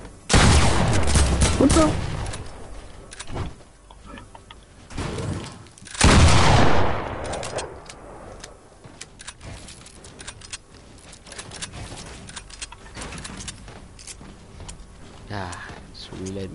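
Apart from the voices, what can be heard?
gunfire in a video game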